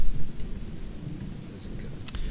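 Steady rain pours during a thunderstorm in the game Gothic 2, a dense low rumbling wash of falling water with faint crackles on top, continuous and fairly loud throughout.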